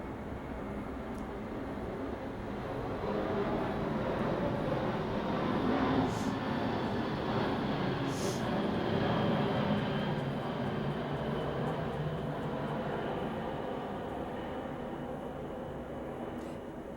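A large military transport plane passes over near an Air Force Reserve base, a steady broadband roar that swells through the middle and slowly fades, heard alone without talk.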